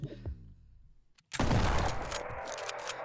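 A burst of shotgun and SMG fire rings out in the top-down roguelike shooter Flashes of Chaos, loud and dense after a short pause, trailing off in a rattling, crackling tail.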